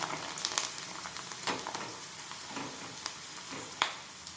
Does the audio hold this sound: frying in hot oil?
yes